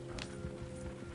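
Horses gallop in the Red Dead Redemption 2 video game, with a rapid run of hoof clops over a steady, dense background of game ambience.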